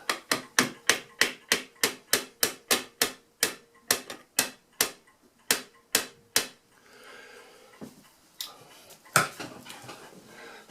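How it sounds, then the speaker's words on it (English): Sharp hammer taps drive a dowel pin into an Addo Multo Model 3 mechanical calculator during restoration, a quick run of about twenty close, evenly spaced knocks followed by a few scattered taps and quiet shuffling. "Tap this dowel pin in."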